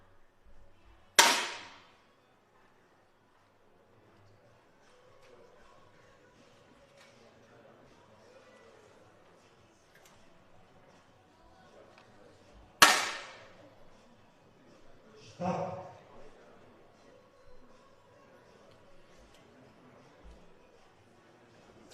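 Two sharp, close 10m air rifle shots at a visually impaired para shooting final, each a crisp crack spaced about eleven seconds apart, followed by a duller thud, in an otherwise quiet hall.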